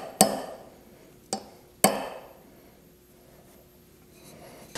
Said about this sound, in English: Now we're going to put this steel wedge right in the center